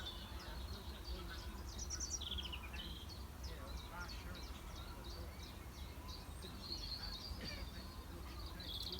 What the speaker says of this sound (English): especially when we have a lot of noise going on with all the bird song